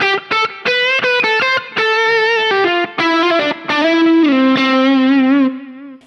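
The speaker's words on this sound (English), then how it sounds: "I would have an over-the-top lead, that type of sound, and then I would have a warmer tone with less gain." An electric guitar played through an overdrive pedal with a high-gain lead tone, close and loud, picking a fast run of distorted sustained notes that end on a long held bend.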